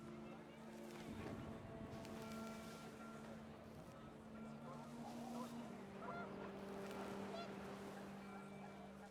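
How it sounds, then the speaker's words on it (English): Panicked geese honk amid gusting wind in the game What Remains of Edith Finch, with scattered honks rising over a windy rush while a voice talks underneath. "The wind picked up, and panicked geese appeared and quickly went."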